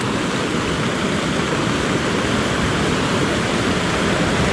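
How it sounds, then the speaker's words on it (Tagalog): A river rushes steadily, a dense unbroken roar of flowing water, loud and close throughout. "Ayan po ang ilog."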